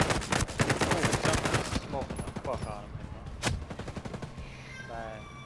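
Automatic weapons fire rapidly in the Ghost Recon Breakpoint video game, a loud two-second burst followed by one sharp single shot amid quieter game sounds.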